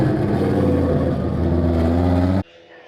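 A loud, close 1000 hp Audi RS3 engine at a roll racing event holds a sustained high-rev roar with a rasping exhaust, then cuts off abruptly near the end.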